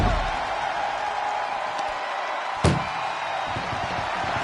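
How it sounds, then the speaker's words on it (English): A single heavy slam of an ambulance door in the wrestling video game WWE 2K24, a sharp thud about midway through over a steady roar of arena crowd noise. "Look at the struggle just to shut that first door."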